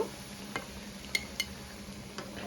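Fish roe fritters fry in hot oil with a steady low sizzle, broken by a few light clinks and scrapes of a utensil against the pan.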